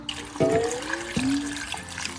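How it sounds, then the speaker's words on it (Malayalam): Water poured into a pot of chicken and vegetables for hot and sour chicken soup: a close, steady gurgling stream whose pitch rises as the vessel fills, with no one speaking. "ഇത് മൂടെ നമുക്ക് വെള്ളം ഒഴിച്ചു കൊടുക്കാം."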